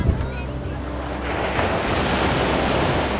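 Ocean surf breaking on a beach shore, a steady broad wash of crashing water mixed with wind buffeting the microphone, loud and continuous.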